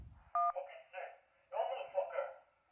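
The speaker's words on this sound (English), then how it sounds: "If you can't talk, press any digit on your phone." A single phone keypad digit tone sounds during a 911 emergency call, one short steady dual-tone beep near the start, followed by a dispatcher's voice talking.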